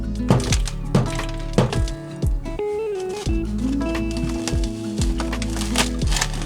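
Ice being tapped and knocked loose inside an RV freezer during de-icing, a close, loud series of sharp cracking thunks with scraping and creaking between the hits.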